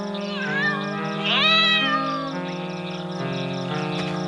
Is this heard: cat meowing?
yes